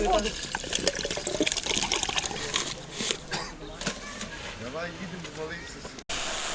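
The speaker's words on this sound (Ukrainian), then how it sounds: "Нарешті купив трохи водички, заправив" Water runs and trickles steadily into a bottle being filled at a shop during a cycling trip, with people talking over it.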